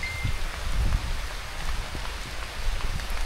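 Rain falling on a white beach in Torrijos, Marinduque: a steady dense patter with low rumble underneath, continuous and fairly loud throughout.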